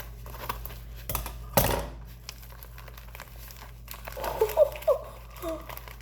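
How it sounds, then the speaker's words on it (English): A package being cut open before unboxing a Valk 5M speed cube, with sharp crinkling and tearing of packaging, a loud snip near the start and rustling plastic later, close by with no talk. "I guess I'll cut it open more."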